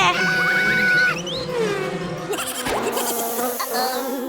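Cartoon bees buzzing in a children's animated story set in a cardboard school, a loud wavering drone that swoops in pitch, joined by musical tones and bright sound effects, with no talk.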